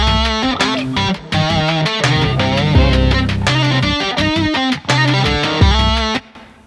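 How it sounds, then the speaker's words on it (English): Electric guitar chords and riffs played through a Korneff Audio Amplified Instrument Processor tube emulation, with warm, saturated distortion, loud and continuous with brief gaps between phrases. "You can also set it to a tube emulation, which sounds like this."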